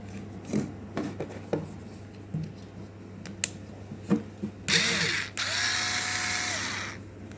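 A 4.8-volt cordless screwdriver with a work light whirs in a steady motor hum for a couple of seconds after scattered handling clicks and rustles, close and fairly loud.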